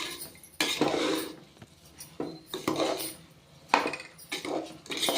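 A spoon scrapes and clinks against a pot as rice is stirred and fried for coconut milk rice, in uneven strokes and close by, with no talking.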